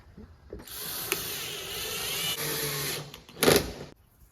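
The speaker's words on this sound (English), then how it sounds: "So just go ahead and put your screws back in." Screws are driven back in around a Ford Explorer's rear lift gate, a close powered driver whirring steadily for about three seconds, then a short louder burst before it stops.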